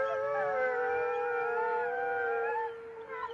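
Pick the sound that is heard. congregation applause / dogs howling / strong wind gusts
dogs howling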